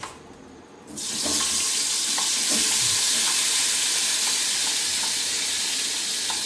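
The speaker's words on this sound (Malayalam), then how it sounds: "ചേട്ടൻ അവിടെ ഇപ്പൊ ചോറുണ്ണാൻ വേണ്ടിയിട്ടതാ ഇറച്ചി ചൂടാക്കിക്കൊണ്ടിരിക്കുകയാണ്" Meat reheating in a kitchen pan bursts into loud, steady sizzling after a second of near quiet, a broad continuous hiss with occasional spits and clinks, close up with no voices.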